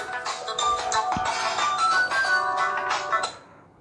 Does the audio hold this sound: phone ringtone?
yes